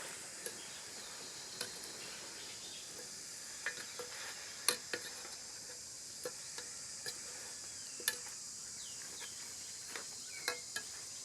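A pot of Cambodian kakor soup with palm sugar gets stirred, giving faint, scattered ladle clicks and scrapes at irregular intervals over a steady thin hiss.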